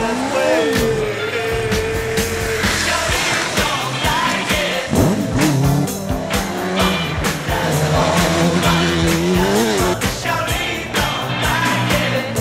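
Racing sidecars roar through a stage of the Moto Tour rally, engines revving loudly with sweeping pitch changes, tire squeals and crowd shouts mixed into the busy, continuous noise.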